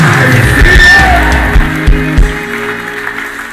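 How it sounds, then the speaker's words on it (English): A church congregation claps and cheers loudly, a dense wash of applause with shouts that gradually thins out. "Clap your hands and shout, I receive it."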